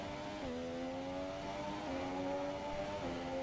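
A Formula 1 car in the F1 2017 racing game drives into the pit lane, its engine note a steady loud whine with harmonic pitch steps as it shifts gears, continuous and alone without speech.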